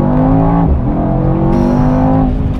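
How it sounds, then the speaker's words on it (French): The twin-turbo V8 of a Mercedes-AMG E63 S estate roars loud and close under hard acceleration, its pitch rising, dropping briefly at a gear change, then climbing again. "avec ce gros V8 biturbo qui développe 850 Nm de couple. Donc ça arrache carrément le bitume"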